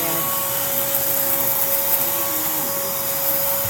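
A household vacuum cleaner runs steadily and loudly at close range, its constant roar and whine filling the room with no pauses or speech.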